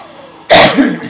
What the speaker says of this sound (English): I have a little bit more coughs today than usual